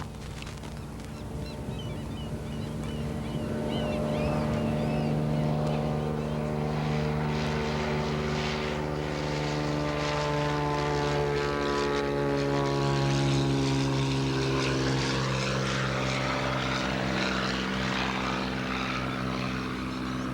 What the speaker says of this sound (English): what you'll see a lot of are float planes